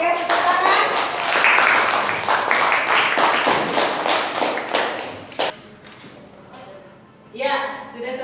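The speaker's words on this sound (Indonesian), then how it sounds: "Oke, tepuk tangan." Classroom applause during a lesson, a group of students clapping in a dense burst that thins out and fades, with voices talking over and after it.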